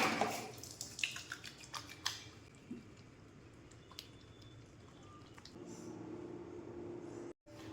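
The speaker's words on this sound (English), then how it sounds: "I'm gonna wash my face really well to remove all the sunscreen and everything" Face being washed with water by hand, soft splashes and wet drips at the start fading into quieter damp rubbing and faint trickling, close and intimate with no talking.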